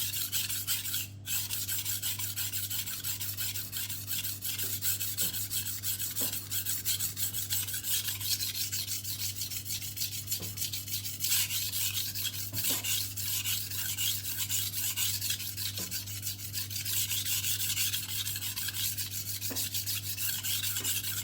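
Steady close-up rasping as a dull refurbished knife is drawn along a Kintif hybrid whetstone, a continuous gritty scrape that runs the whole stretch with faint periodic strokes and a constant low hum underneath.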